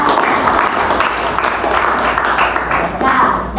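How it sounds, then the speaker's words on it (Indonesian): Classroom applause for a student after a capacitor charging and discharging demonstration, a steady wash of clapping lasting several seconds with voices mixed in. "berikan tepuk tangan kepada Dina."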